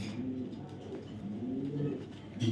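Tiger racer pigeons coo softly in low, repeated rolling phrases, fairly close but quiet, with faint background noise and no speech.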